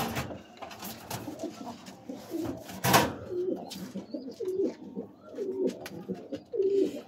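Large high-flying pigeons, a nesting pair with young, coo in repeated throaty rolls at close range, each coo a few seconds apart, with soft rustling and wing noise between them.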